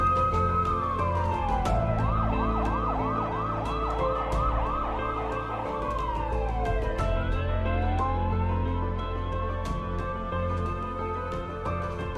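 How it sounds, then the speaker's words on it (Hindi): A police siren wails, switches to a rapid yelp, then returns to a long rising and falling wail over steady road noise. "तभी पुलिस की सायरन सुनाई दी"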